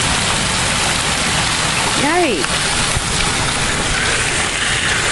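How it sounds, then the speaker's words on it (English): Heavy rain pours down steadily on flooded streets in a dense, loud hiss, with a brief exclaimed word from a nearby voice partway through. "I haven't seen it rain like this in quite some time."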